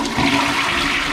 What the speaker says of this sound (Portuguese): eu vou dar descarga